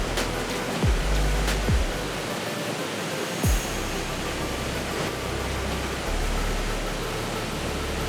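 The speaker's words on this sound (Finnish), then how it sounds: "täällä on tämmönen iso koski." A large river rapid in the Ylläs area of Finland rushes in a steady, broad roar of water, close and unbroken, with a few low thumps and knocks underneath.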